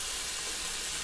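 Hash browns fry in an electric skillet with a steady, even sizzling hiss and no pauses or other sounds.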